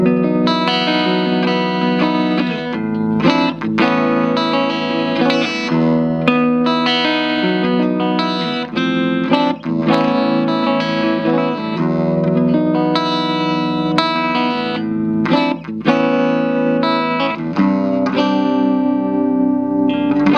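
A Jackson WRMG Warrior electric guitar with EMG 81 and 85 pickups and a licensed Floyd Rose bridge plays a clean tone with a chorus-like shimmer. Chords and ringing notes sound loud and continuous, close up, with no voices.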